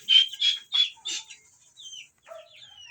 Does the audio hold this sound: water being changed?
no